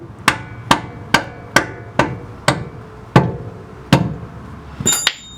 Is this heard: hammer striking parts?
yes